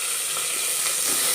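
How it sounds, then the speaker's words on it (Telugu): Curry leaves sizzle in hot oil, a bright, continuous crackling hiss that holds steady and loud throughout, close up and with no talk. "ఆయిల్ హీట్ అయిన తర్వాత ఇందులోకి కొంచెం కరివేపాకు"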